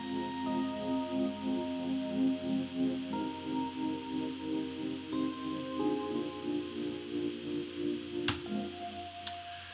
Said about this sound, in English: So next we lay down a harp and a pad,